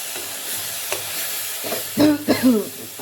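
Onion and chili frying in a pan as a Bengali home cook prepares a prawn curry, with a steady soft sizzle and hiss and occasional stirring scrapes, while a voice briefly talks near the end.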